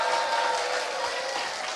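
Audience applause in a lecture hall answering a speaker's greeting at an education seminar, a steady even patter of clapping with a faint tone beneath, no talk.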